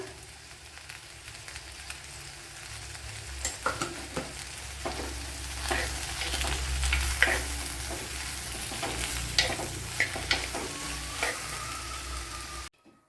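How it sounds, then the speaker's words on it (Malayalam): Okra sautéing in a pan with turmeric in a Kerala-style dish, a steady close sizzle with scattered stirring scrapes and clicks throughout, no voices. "നമ്മുടെ വെണ്ടയ്ക്കയില ഞാൻ ഇതുപോലെ നല്ലതുപോലെ വഴറ്റിയെടുത്തിട്ടുണ്ട്"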